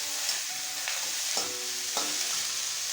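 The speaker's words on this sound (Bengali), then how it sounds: "দিয়ে দেব কেটে রাখা লাউয়ের খোসা। সব কিছুকে আবারও খুব ভালোভাবে নেড়ে নেব।" Bottle gourd peel stirred while frying in a pan, a soft continuous sizzle broken by a few distinct spatula scrapes, quiet and close.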